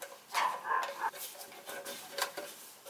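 Pomeranian barking indoors during a boiler control replacement, several sharp yaps in an uneven cluster, fairly close and moderately loud, with a faint clatter in the background.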